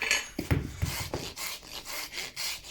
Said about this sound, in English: switch to the rasp. And all we want to do with the rasp is just level that foot up.